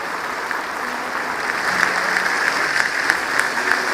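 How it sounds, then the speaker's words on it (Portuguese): Steady applause from a church congregation, sustained clapping throughout that swells slightly louder midway, with scattered sharper claps standing out. "dê um aplauso bem forte ao Senhor"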